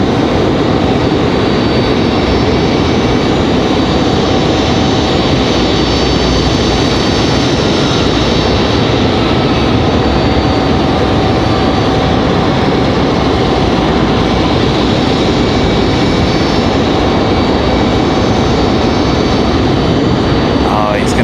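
A jet airliner landing at Raleigh-Durham airport produces a loud, sustained roar and whine that stays constant throughout, with talk heard over it.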